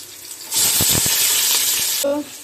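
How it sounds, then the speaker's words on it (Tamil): Onions and whole biryani spices hitting hot oil for a vegetable dum biryani, bursting into a loud, steady sizzle with a few stirring clatters before the frying abruptly drops away. "பிரியாணி ஸ்பைசஸ் எல்லாமே நல்லா பொரிஞ்சதுக்கப்புறம் வெங்காயத்தை ஆட் பண்ணிக்கலாம்"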